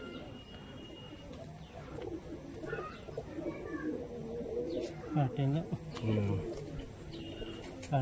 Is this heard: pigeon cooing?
yes